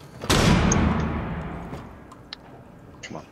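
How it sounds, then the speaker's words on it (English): A flashbang grenade goes off in Rainbow Six Siege, a single sharp, loud bang that decays into a lingering rumble, followed by a few faint clicks. "Throwing a flashbang."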